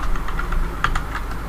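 Close clicking of computer keyboard keys while typing into a callout in Excel, a steady irregular patter of taps over a low background hum.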